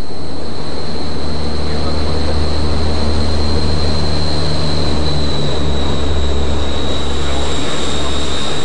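A research ATR propeller aircraft in flight, its engine drone loud and constant with a steady high whine riding over a deep rumble, unbroken for several seconds with no other sounds.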